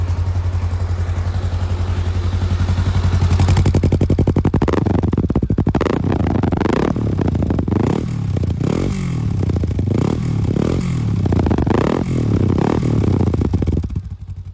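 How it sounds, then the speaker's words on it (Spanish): Honda Rebel 500 motorcycle, new and not yet broken in, revving its exhaust from idle in repeated loud, close bursts, each rising and falling back, ending in a short drop. "vamos a hacer la prueba de lo que viene siendo el sonido del escape"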